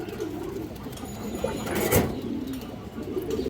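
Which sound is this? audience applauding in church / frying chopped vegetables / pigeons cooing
pigeons cooing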